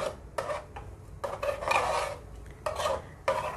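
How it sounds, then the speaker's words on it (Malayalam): Coconut paste being mixed into a Kerala muthira chena erisseri curry, a few rasping, scraping stirs of a spoon against the pot, close and moderately quiet, with short pauses between strokes and no talking. "ഇനി നന്നായിട്ടൊന്ന് മിക്സ് ചെയ്യാം."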